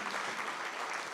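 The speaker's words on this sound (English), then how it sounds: "a big round of applause for Majella Beattie" Audience applause at a care event, a brief, even patter of many hands clapping at moderate distance, steady and without voices over it.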